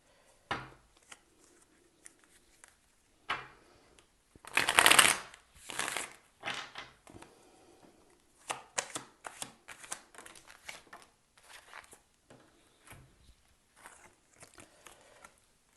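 Tarot cards being shuffled by hand, soft papery riffles and taps in scattered bursts with one louder flurry near the start, close and quiet with no talking.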